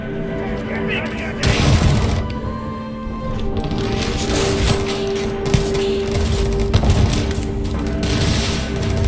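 Gunfire in the space game Starfield, dense bursts of shots and booms layered with game sound at a loud, steady level, continuing throughout with little pause.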